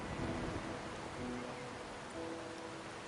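Rain falls in the video game Wuthering Waves, a soft, even wash of patter holding steady throughout, quiet and with no voices.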